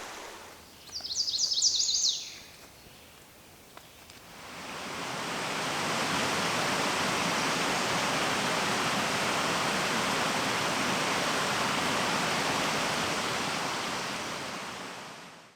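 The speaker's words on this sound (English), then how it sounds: "This is the Mosquito River" Mosquito River water rushes in a steady, broad roar that rises after a brief sharp squeak and low rustle at the start, then holds loud and even until it cuts off.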